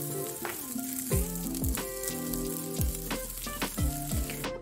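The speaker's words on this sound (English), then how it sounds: "Fry them for about 3 to 4 minutes on each side or until they turn golden brown and crispy" Pork cutlets fry in a pan over medium heat with a steady crackling sizzle, partly masked by louder melodic music playing over it.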